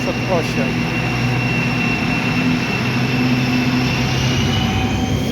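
Grupa Azoty freight train DG 33 passing at Tarnów, a steady continuous rumble of wheels on rail with a sustained tonal hum, close and even throughout.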